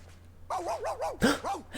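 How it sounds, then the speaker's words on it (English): A small dog in the video game Kingdom Hearts 2 Final Mix gives a quick series of high, yipping barks and whines, close and clear over a low steady game hum. "Axel brought Kyrie a dog!"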